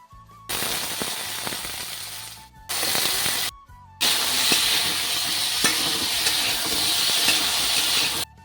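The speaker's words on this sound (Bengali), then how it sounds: "আলুটা আমি অল্প ভেজে নিচ্ছি" Potatoes frying in a pan give close, loud bursts of sizzle and crackle that cut out twice briefly and then run on steadily, with light clatter from stirring and no talking.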